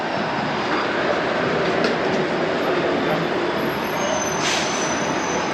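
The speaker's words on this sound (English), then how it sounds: "It's a tram I'm going to be taking a little later." A Toronto 505 Dundas streetcar rolls past close by with a loud, steady rumble of wheels on rails and a brief high wheel squeal near the end.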